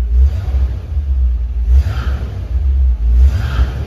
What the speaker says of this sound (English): the belt squeals now because it's got a load on it